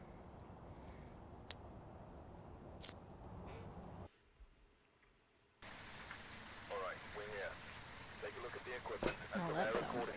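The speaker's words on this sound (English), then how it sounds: "Oh, that sounds like rain." Rain in the video game Phasmophobia: a steady, hissing wash of rainfall noise fills the scene, briefly cutting out, then returning denser with faint scattered sounds mixed in.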